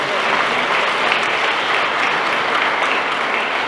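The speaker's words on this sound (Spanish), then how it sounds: "Un fuerte aplauso a Santiago Papasquiaro." Audience applause at a cultural grant award ceremony, a steady, dense clapping from a large crowd that sustains evenly throughout without pause.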